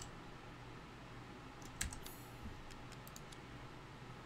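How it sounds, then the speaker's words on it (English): Typewriter keys clacking in the Resident Evil Village video game: a short run of faint, quick clicks over a steady background hum, with no talking. "Oh, typewriter. Nice."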